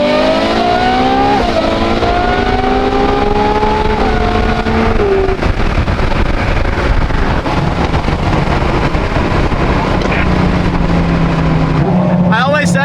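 A fast Ferrari sports car's engine roars continuously, with rising and shifting revs through gear changes and steady wind noise, close and loud throughout the drive.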